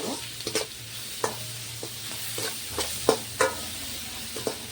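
Tomato with salt, turmeric, chilli and coriander powder fries quietly in a pan, a low sizzle punctuated by a steady series of spatula taps and scrapes against the metal.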